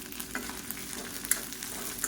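Shallots, garlic and dried red chillies sauté in a pan, giving off a faint, even sizzle with small crackles and light ticks. It sounds fairly distant and no one speaks.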